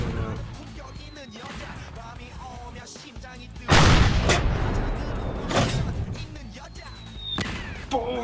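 Cannon fire in the block-building video game Blockland, with sharp loud booms bursting out, the biggest one near the middle and others following, over game noise and excited voices.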